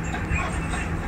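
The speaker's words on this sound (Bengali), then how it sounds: "জিরানিয়া রেলওয়ে স্টেশনে ট্রেন এখানে দাঁড়াচ্ছে।" A special train from Agartala slows to a stop at Jirania railway station, its steady low rumble and clattering wagons filling the short stretch, with faint voices mixed in.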